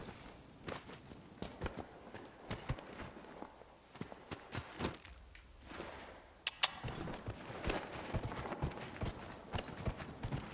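Horse hooves clip-clopping in the video game Dragon Age: Inquisition, a steady run of close, sharp hoof strikes that grows denser and louder toward the end, with no talk over it.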